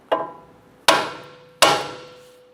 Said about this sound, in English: Use a hammer. I'm going to go ahead and smack the knuckle here.